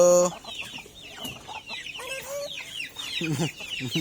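Hens cluck and chatter in short repeated bursts, close by, with some higher chirps mixed in and a faint voice in the background.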